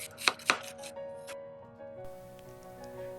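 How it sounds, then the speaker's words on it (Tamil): A knife chops a medium onion on a board with two sharp, close strokes, followed by a few lighter taps and quiet kitchen background. "ஒரு மீடியம் சைஸ் வெங்காயம் சின்னதாக நறுக்கிக்கலாம்."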